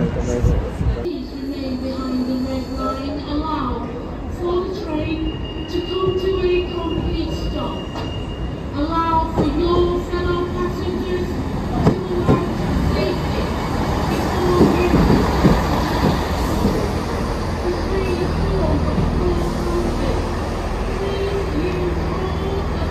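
A train rumbles loudly at close range at a station platform with a steady mechanical roar and high squealing tones, while people talk nearby.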